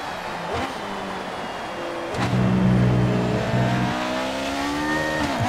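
Formula 1 car engine in the F1 2018 racing game at the Shanghai Chinese Grand Prix, a loud steady high-revving whine that surges and climbs through gears, with no talk over it.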